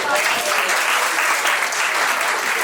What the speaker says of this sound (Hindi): तालियां बजती।